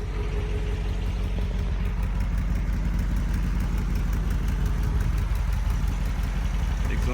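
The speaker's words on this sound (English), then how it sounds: "As you can see, the idle speed needs adjusted a little." A 1969 MGB GT engine idles steadily up close, its idle speed slightly off, with a continuous low rhythmic chug and faint ticking throughout, no talk over it.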